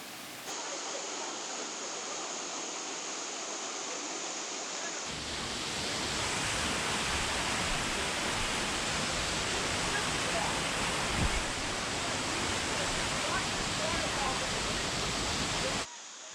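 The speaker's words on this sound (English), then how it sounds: "this roaring waterfall" A roaring waterfall in the Smoky Mountains gives off a loud, steady broadband rush that swells louder partway through and holds there, with wind noise mixed in and no voices.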